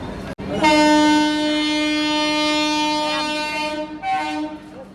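A loud, sustained train horn blares with strong harmonic tones for several seconds, briefly dipping before sounding again near the end, in Mumbai.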